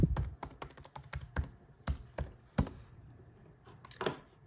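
Someone types a password on a MacBook keyboard: a quiet, close run of light, irregular key clicks in small bursts with short pauses.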